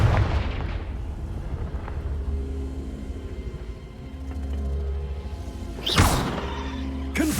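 A Confringo blast spell from the video game Hogwarts Legacy: a low rumbling backdrop gives way to a sharp, loud explosive burst near the end, followed by a second smaller hit.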